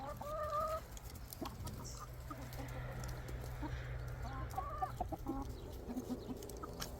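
Backyard chickens cluck and murmur close by in short repeated bursts, with a few louder calls standing out over steady outdoor background noise.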